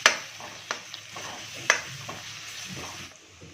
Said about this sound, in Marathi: लाल मिरची पावडर, पावभाजी मसाला आणि हे व्यवस्थित मिक्स करून घ्यायचे